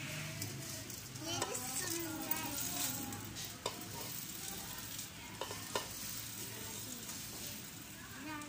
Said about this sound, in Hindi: ये घी डाल रही हूँ, घी ज़्यादा नहीं डालना है।